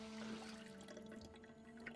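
A survivor character drinking water in the game Project Zomboid, a quiet liquid trickle and faint drips over a low steady hum, soft and close for about two seconds.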